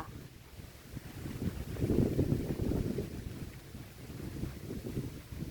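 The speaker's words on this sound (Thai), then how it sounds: "บรรยากาศดีมากเลยค่ะ ลมตลอดเลย" Wind gusts across an open rice field sown about a month earlier, a steady low rushing that swells loudly in the middle and eases again, with microphone buffeting and no voices.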